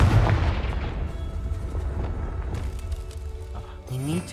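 Confringo spell blast in a Harry Potter video game: a heavy booming explosion at the start that decays into rumbling, followed by magical whooshes and a rising tonal effect near the end.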